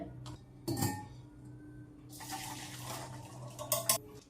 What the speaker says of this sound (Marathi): हे उकडून झालेले आहेत यातील पाणी काढून घेऊया